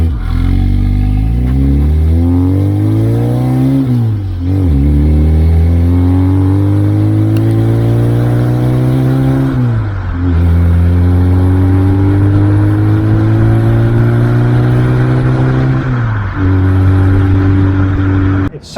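A112 Abarth car engine revving up and down in repeated rising sweeps, loud and close with a rough, buzzy tone, easing off briefly around five, ten and sixteen seconds before climbing again.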